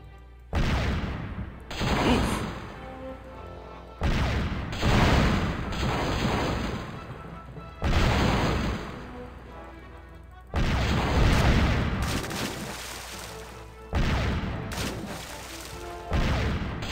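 Cannon fire in a pirate sea battle from the game The Curse of Monkey Island: a series of six heavy booming blasts, each with a rumbling crash and decaying tail, spaced a couple of seconds apart.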